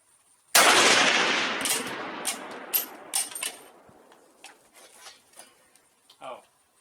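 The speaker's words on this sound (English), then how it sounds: "I'm going to shoot at the bottom part of the circle instead of up top." A Swiss K-31 rifle firing GP11 surplus ammunition at an outdoor range: one loud, close shot cracks out and its echo rolls away, followed by a scatter of faint clicks and rattles.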